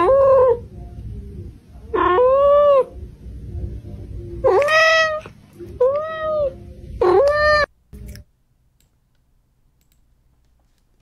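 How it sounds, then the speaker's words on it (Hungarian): Cat meows play from a cat video, five loud, close, drawn-out meows in an uneven rhythm, with a brief click near the end before near silence. "Öt euró, egy macskás videó."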